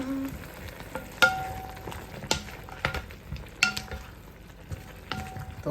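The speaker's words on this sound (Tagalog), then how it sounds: "So we'll put the carrots and the potato, and then you're going to mix." Carrots and potato being stirred into a sizzling pan of frying chicken curry, with steady crackling fry noise and repeated scraping, clinking utensil strokes against the pan at a near, moderate level.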